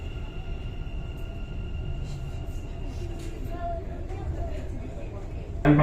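Dubai Metro train slowing into Discovery Gardens station, a steady low rumble and whine inside the car with faint announcement-like tones, and a voice talking over the ride.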